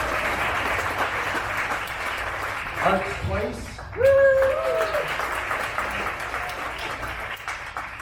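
Audience applause at an all-candidates forum in Canmore, steady clapping with a voice speaking briefly over it partway through.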